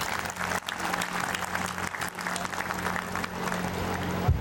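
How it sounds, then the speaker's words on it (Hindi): Steady applause from a large crowd at a school annual function, honouring teachers, dense clapping that holds at an even level for several seconds with a low hum underneath. "तो मैं चाहता हूं एक बार टीचर्स के लिए हम जोरदार तालियां बजा दें"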